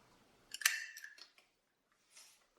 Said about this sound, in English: Now I'm going to grab my hole punch